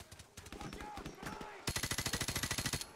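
Automatic gunfire in Call of Duty: Modern Warfare Remastered, faint bursts under a man's speech at first, then a loud, rapid, evenly spaced string of shots taking over near the end.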